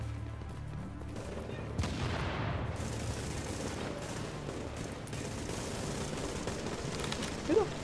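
Video game gunfire rattles from behind in a dense, continuous fusillade of shots, moderately loud and steady throughout, with a sharper crack near the end.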